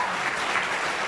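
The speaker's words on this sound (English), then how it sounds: "How about a round of applause for our speaker today?" Audience at a National Press Club luncheon applauding the speaker, a dense, steady burst of many hands clapping at a moderate distance.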